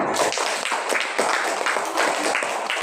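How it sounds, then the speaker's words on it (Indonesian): Students in a classroom clapping for a group, a dense run of overlapping handclaps filling the whole stretch at steady moderate loudness. "Beri tepuk tangan untuk kelompok."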